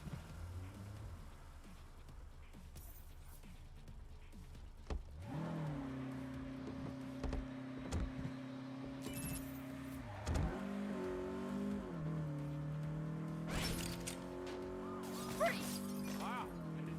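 A car in the Saints Row video game (2022) revs and accelerates with a steady droning engine tone that shifts pitch as it changes gear, accompanied by occasional crunching impacts and game speech.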